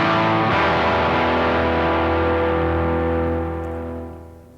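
Electric guitar on the bridge pickup through a delay effect in the same pedal, playing a sustained chord that rings out with repeating echoes and slowly fades over a few seconds.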